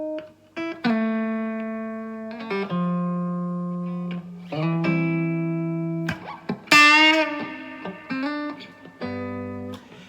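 Clean electric guitar plays a short melodic lick of sustained and sliding notes, with brief pauses between phrases and a bent high note near the end.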